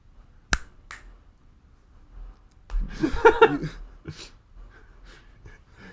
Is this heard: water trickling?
no